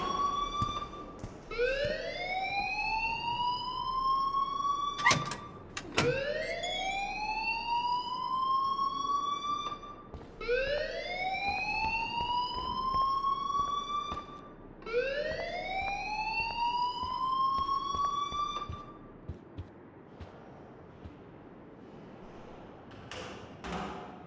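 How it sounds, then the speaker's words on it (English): School alarm ringing in the Life is Strange video game, a loud electronic wail that sweeps upward in repeated rising cycles about every five seconds, sounding alone with a couple of sharp knocks early on. "please turn off that alarm since that's your job"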